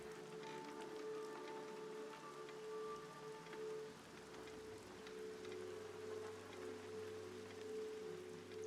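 Steady rain falls throughout, a soft continuous patter on a surface with a low hum beneath it, fairly quiet and with no voices.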